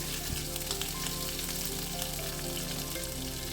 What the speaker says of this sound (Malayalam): കറിവേപ്പിലയും കൂടെ ഇട്ട് കൊടുക്കുക അതിനുശേഷം നമ്മൾക്ക് പച്ചമുളക് ചേർത്ത് കൊടുക്കാം ജസ്റ്റ് എല്ലാം ഒന്ന് ഇളക്കിക്കൊണ്ടിരിക്കണം